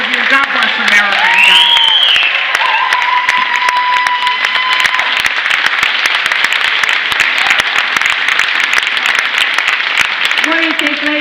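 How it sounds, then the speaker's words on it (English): Loud sustained applause from a crowd at a political campaign event, continuous dense clapping with cheers and a few tonal whistles, voices faintly beneath, lasting the whole stretch. "Round of applause here or what?"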